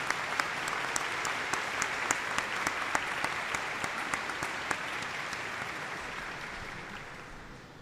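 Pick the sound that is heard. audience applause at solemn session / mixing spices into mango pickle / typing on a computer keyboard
audience applause at solemn session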